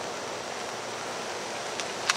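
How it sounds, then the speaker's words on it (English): Steady broadband rain falling outdoors, a continuous even hiss close by with no talk, a couple of faint ticks near the end. "Now it's raining now, I gotta hurry up here, because it's raining"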